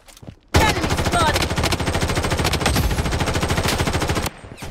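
Rapid automatic gunfire in the shooter game Blood Strike, a loud sustained burst of closely spaced shots lasting several seconds before cutting off abruptly, with brief quieter moments before and after.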